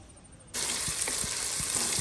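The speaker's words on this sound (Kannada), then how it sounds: "ಇದನ್ನ 5 ನಿಮಿಷ ಹೀಗೇನೆ ಫ್ರೈ ಮಾಡುವ" Carrot, beans, potato and peas are fried in a pressure cooker for vegetable pulao: a loud, steady sizzle bursts in suddenly and continues close-up, with soft repeated stirring knocks inside it.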